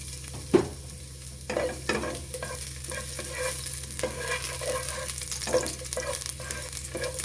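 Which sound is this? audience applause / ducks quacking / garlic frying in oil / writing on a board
garlic frying in oil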